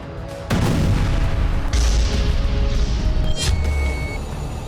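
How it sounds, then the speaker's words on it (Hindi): Israeli air strike explosion in Gaza, opening with a sharp blast followed by sustained loud rumbling and a second burst partway through, all deep and booming. "चौथा विस्फोट।"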